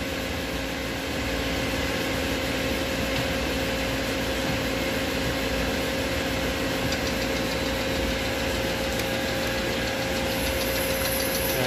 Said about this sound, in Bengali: এরপরে আমি স্পেন্ডাল ঘুরাই দিতে আসি, RPM স্পিড বাড়াই লই